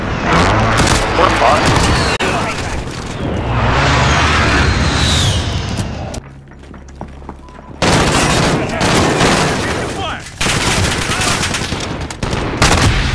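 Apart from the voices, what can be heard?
precision airstrike explosions in video game Modern Warfare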